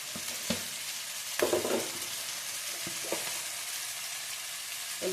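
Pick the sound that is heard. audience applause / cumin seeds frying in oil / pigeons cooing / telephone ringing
cumin seeds frying in oil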